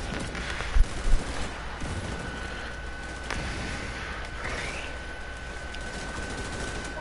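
Gunfire in the Division 2 video game, a dense spread of rapid shots and distant booming fire, steady and moderately loud, with a couple of heavier thumps near the start and no voices.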